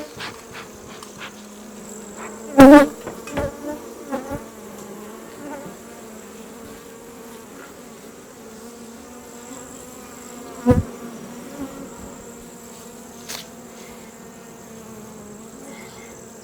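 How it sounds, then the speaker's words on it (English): Honey bees buzzing around an open beehive, a continuous soft hum with occasional louder bursts as individual bees pass close by. "I got a bee stuck in my head."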